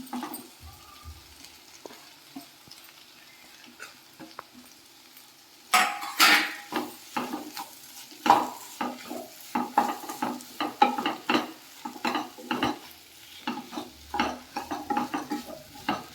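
Okra (ladyfinger) being fried in a pan for a village-style sambar, with a quiet stretch and then a busy run of scraping spoon strokes and clinks against the pan over a light sizzle, close and fairly loud.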